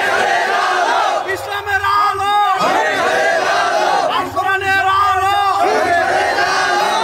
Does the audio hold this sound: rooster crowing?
no